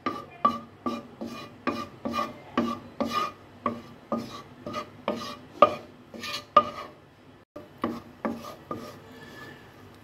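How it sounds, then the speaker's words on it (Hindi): Vegetables stirred in a pan over a medium flame, a close, steady rhythm of scraping, rasping strokes repeating about once every half second, with a brief pause near the end. "हल्का सा सौते हो गया"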